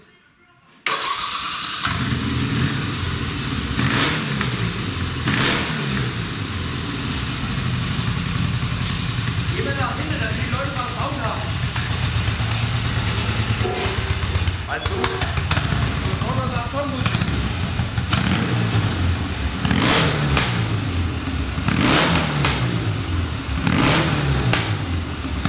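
Norton Commando 850 motorcycle engine starting via its electric starter, then running loud and close with repeated throttle revs rising and falling over a steady idle, with people talking over it.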